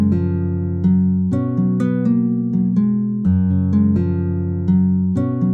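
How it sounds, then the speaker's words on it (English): A nylon-string guitar melody from a picked VST preset plays as a steady run of plucked notes, each with a crisp attack and a short ring, moderately loud and alone, with no talking. "Picked nylon strings. So the same melody with the nylon string sounds like this."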